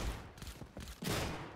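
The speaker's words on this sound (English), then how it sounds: "Gunfire." Close, dense bursts of gunfire during a Fortnite match, with rapid shots following one another throughout the short stretch.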